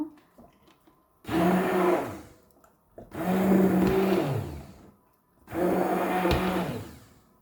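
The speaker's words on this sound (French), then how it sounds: "Je vais commencer à mixer." A blender purées pumpkin soup in three loud whirring bursts of about a second each, separated by brief near-silent pauses, close up and with no talk.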